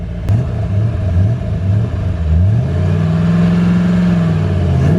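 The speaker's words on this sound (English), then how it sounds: "I peer pressured him into doing a burnout" A five-speed swapped muscle truck's engine revs hard and holds high during a burnout, a loud, close rumbling roar that climbs in pitch and sustains without any talking.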